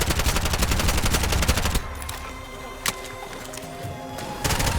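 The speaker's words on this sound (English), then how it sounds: "Let's try the alternative firing mode." Gunfire from an alternative firing mode in the video game Bright Memory Infinite: a loud rapid burst of shots for almost two seconds, then a quieter stretch with one sharp crack, and firing resuming at the end.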